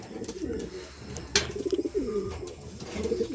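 Racing pigeons that have just returned from a 100 km training flight in Carmen, Pangasinan coo in soft, repeated rolling phrases close by, with a brief sharp rustle partway through.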